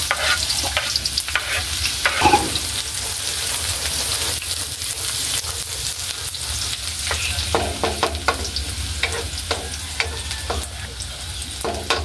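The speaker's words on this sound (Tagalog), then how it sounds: "So, haluin na po natin mga idol. Tsaka yung sibuyas." Bitter gourd and anchovies with onion stirred in a frying pan, steady loud sizzling and oil crackle throughout with scraping spatula strokes and occasional clacks, no talking.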